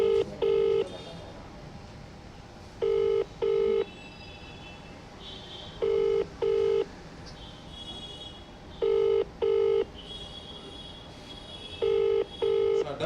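A telephone number being dialed, with bursts of paired keypad tones repeating in a steady pattern every few seconds, interleaved with ringback tones, fairly clear over a faint background.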